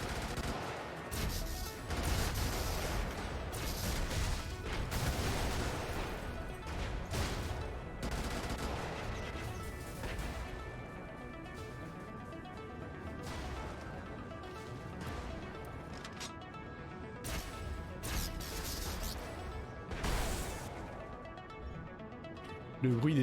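Rapid crackling bursts of weapon fire in the game Brigador, buzzing and snapping like electric bug zappers, coming in dense volleys with short gaps and a voice talking over them.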